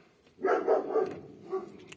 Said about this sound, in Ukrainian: Той собака задовбав мене.